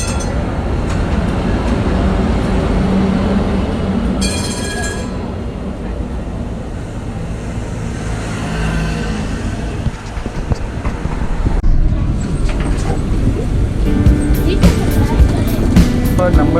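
Amsterdam tram number 19 passes along a city street: a loud, continuous rumble of steel wheels on rails that swells near the end, with voices in the background.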